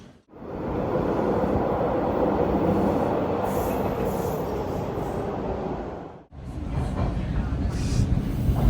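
Steady rumbling rattle from inside a moving passenger train, loud and continuous, briefly cut off near the end before resuming.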